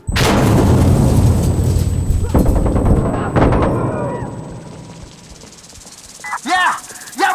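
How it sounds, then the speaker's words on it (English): A grenade detonates in Insurgency Sandstorm with a loud close blast and rumbling tail, followed by a second impact and fading debris hiss, then shouted voices near the end. "Grenade out!"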